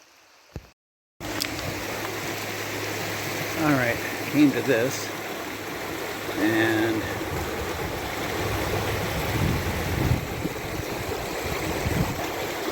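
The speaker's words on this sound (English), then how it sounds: "You got this little gentle creek sound." Steady broadband rush of North Sylamore Creek flowing gently along a trail, running throughout with someone talking over it near the start.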